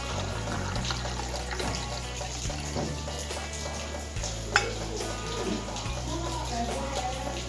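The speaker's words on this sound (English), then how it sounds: "Then pour the water" Water poured into a glass in a classroom science demonstration, a steady liquid splash and trickle running throughout under a low background hum, with a brief sharp clink near the middle.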